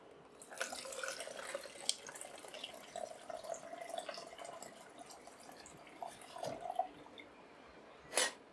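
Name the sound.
water pouring from a tap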